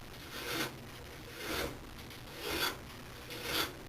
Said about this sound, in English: I'm using a double cut Nicholson bastard file